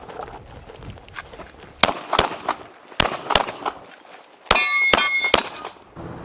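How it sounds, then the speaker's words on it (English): Handgun shots striking steel targets hung by chains at a range, a run of sharp cracks each followed by a ringing metallic clang, irregularly spaced, loud and close with no talk. "you can run through these targets and you can do a body shot, headshot for defensive training"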